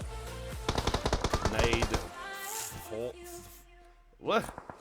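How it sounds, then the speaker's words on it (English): Rapid bursts of automatic gunfire from a competitive video game match in a pro league, fast rhythmic volleys in the first couple of seconds, with a caster talking excitedly over the action. "Frankie and Dark trying to get the shots in on Dupree."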